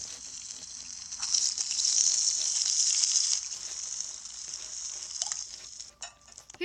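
Fish frying in the Toca Kitchen 3 video game gives a bright, steady sizzle that swells and then fades near the end, with no talking.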